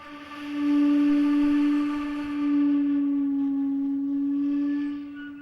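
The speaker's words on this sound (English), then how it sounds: "Very airy, which again in Western flute playing wouldn't even really be considered a sound" A single sustained flute note, soft and breathy with plenty of air in the tone, swelling and holding steady for several seconds.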